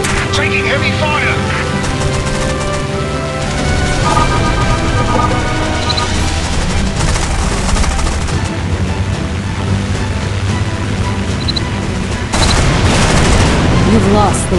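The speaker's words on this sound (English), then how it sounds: "Taking heavy fire!" Aircraft machine guns in the War Wings air-combat video game, a steady loud barrage of rapid fire and explosions running throughout, with game radio voices calling out over it.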